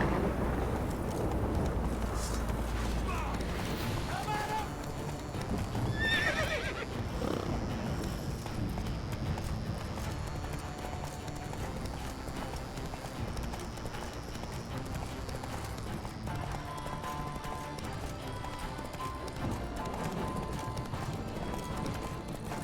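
Hooves of Geralt's horse Roach clip-clop in a steady galloping rhythm in The Witcher 3, with an occasional whinny, over a continuous bed of game music and ambience.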